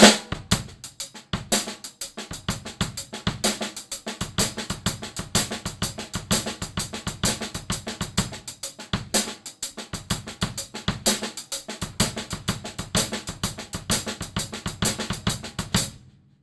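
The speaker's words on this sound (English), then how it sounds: "2 bars of the Purdie Shuffle and then add this exercise 6 shuffle," A drum kit grooves steadily through two bars of the Purdie Shuffle and then into a shuffle exercise, with loud, close kick, snare, and hi-hat strikes in a continuous swung pattern. There are no voices.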